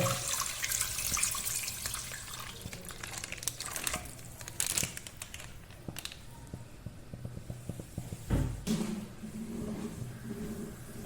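Milk poured into a pan for carrot payasam, a soft splashing stream mixed with crinkling and clattering handling noises, with a brief louder gush near the end.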